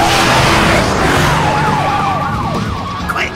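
A cartoon police car siren wails loudly in rising and falling sweeps over a rough engine and road rumble, fading a little as it goes.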